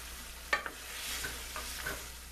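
Wine hitting a hot pan of fava beans during deglazing, with a close, soft sizzle and a few quick stirring scrapes and clicks over a continuous frying hiss.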